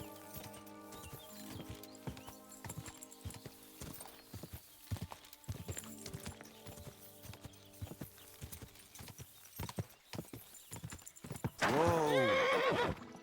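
Horse hooves clip-clop at a steady galloping rhythm in the medieval game Kingdom Come Deliverance II, broken by a loud, close whinny near the end, with music and other game sounds in the background.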